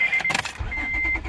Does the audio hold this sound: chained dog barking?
no